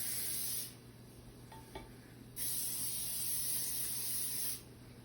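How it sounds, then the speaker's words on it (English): Cooking spray hisses from a can onto the bottom and sides of a pan in two close bursts, a short one and then a longer steady spray, with a quiet clatter between them. "So when you spray, make sure you get the sides and the bottom."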